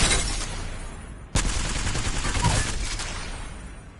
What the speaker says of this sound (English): So you see that I can use all my ammo in the L-Star.